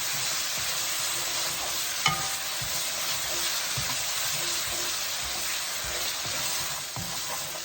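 Thai yellow curry paste frying and being stirred constantly in a pan, heard as a steady, close sizzle with a scraping utensil moving through it and an occasional light clink, without any talking.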